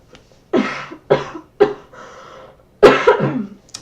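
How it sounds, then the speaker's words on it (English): A run of close, harsh coughs, three quick bursts followed by a pause and then a heavier double cough. "Sorry about that cough."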